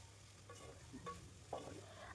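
Fried okra with tomatoes is stirred in a pan for a South Indian palya, with faint scraping strokes of the spoon over a low, steady sizzle, close but quiet.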